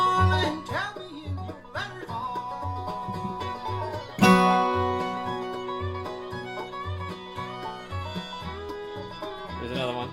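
Acoustic bluegrass rhythm guitar rings out, struck only on the strong downbeats: regular low thumps under sustained chords, with one louder hit midway.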